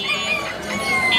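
Desi chickens clucking steadily at a busy chicken market in Mirpur, a continuous dense layer of fowl calls with a crowing-like note, close and moderately loud.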